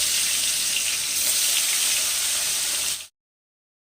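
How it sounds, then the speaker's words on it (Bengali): Rohu fish pieces sizzle in hot oil, a loud, steady hiss of frying that runs unbroken, then cuts off abruptly into silence near the end. "এবার আমি একটা একটা করে মাছগুলো তেলের মধ্যে ছেড়ে এপিট ওপিট করে ভেজে নেব"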